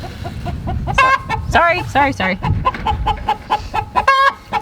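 Hens cluck and squawk in a backyard coop nest box, with a burst of agitated, rising calls that sound close and loud, and a person speaks briefly amid the clucking.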